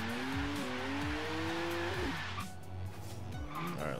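Drive tires of a BMW M2 drift build squeal steadily under a revving engine in Forza Horizon 3, a loud continuous wail with shifting pitch and engine surges throughout.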